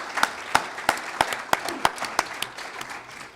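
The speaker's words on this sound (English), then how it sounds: "Please, a round of applause for John Bell and his fellow Oddfellows." Audience applause at an outdoor campfire storytelling event, a steady run of sharp, evenly spaced claps from a small crowd, fairly close and moderate in level.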